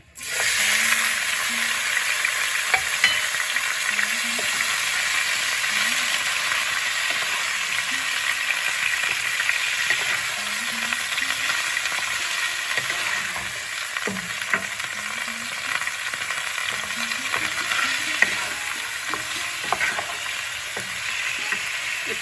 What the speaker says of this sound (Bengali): ভাজা ভাজা হোক, তারপরে মশলা দেবো।